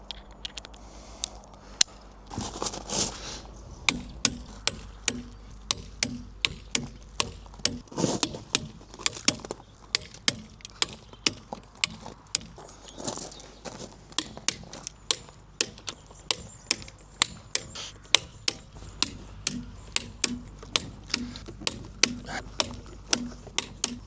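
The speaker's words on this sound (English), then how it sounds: "time to tighten up the wheel bolts. Doing my research, it's 83 pound-feet" A torque wrench tightens the wheel bolts on an electric car, giving a long series of sharp, evenly repeated mechanical clicks and ratcheting snaps, close and clear, with brief pauses between bolts.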